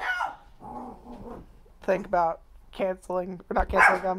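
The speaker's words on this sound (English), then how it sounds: "Sorry for the dogs." Dogs bark in short bursts indoors at a home, a few sharp yips and barks breaking in close by over a woman's speech.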